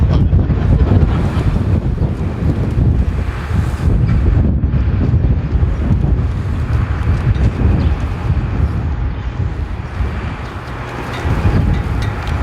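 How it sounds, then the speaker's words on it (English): Steady, heavy wind buffeting the microphone, a continuous low rumbling roar with gusty swells throughout and no voices. "And it's windy"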